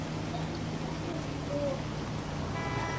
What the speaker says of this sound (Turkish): Yağmurlu bir havada ilerliyoruz.